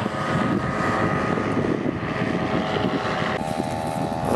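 Powered paraglider motor running at takeoff during a paramotor gathering near Bierzgłowo, Poland: a loud, steady propeller-engine drone with a buzzing harmonic whine, sustained throughout with wind rush and no pauses.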